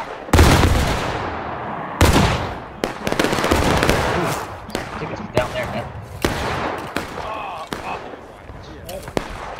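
Musket volleys crack out in a video game, beginning with one large ragged burst and followed by scattered sharp shots and echoing reports over several seconds. Voices can be heard in the background.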